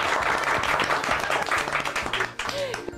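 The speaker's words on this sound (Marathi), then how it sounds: "2 टाळ्या" Studio audience applauding in a Marathi TV serial, a dense burst of clapping heard close and fairly loud, with a voice speaking over it.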